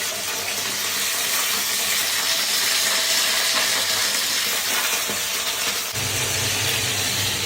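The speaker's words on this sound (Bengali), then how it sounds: "এইবার সুন্দর করে এগুলোকে ভেজে নেব" Okra frying in hot oil in a kadai, with black cumin seeds added to the oil first. A loud, continuous sizzling hiss holds steady throughout, with no voices over it.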